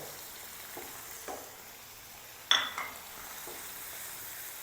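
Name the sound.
spices and vegetables roasting in a pan for shahi daal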